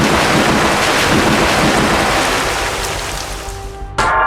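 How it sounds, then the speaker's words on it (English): A Storm Rush attack from the video game Manamon 2 gives a loud, steady roar of rushing wind and stormy noise. It fades slowly and ends in a short sharp burst. "Foe Hyper Tarboo used Storm Rush."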